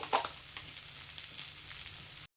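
Okra (bhindi) frying in a pan, a steady close sizzle with crackling spits, loudest near the start and continuing evenly until it cuts off abruptly.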